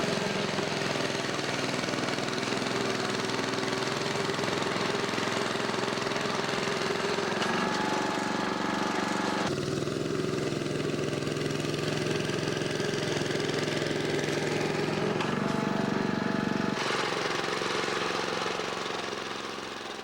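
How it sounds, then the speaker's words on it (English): A 1950 Simplicity tractor engine runs continuously while filling in holes at a railroad pier worksite, a loud, rough mechanical drone with shifting load and clattering that swells and eases in uneven stretches, heard alone without talk. "These holes are being filled in using a 1950 Simplicity tractor."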